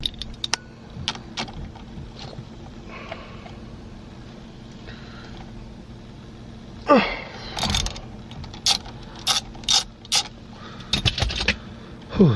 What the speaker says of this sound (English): take off this bolt using a 17mm wrench